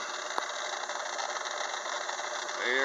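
A metal lathe with a gear-cutting attachment running steadily while cutting a 64-tooth gear, giving a continuous mechanical whir and hum with a faint rattle, close and even throughout.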